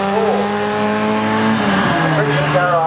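A racing car comes in at Snetterton, its engine note a loud steady drone that dips and shifts pitch as it slows, with commentary running over the top.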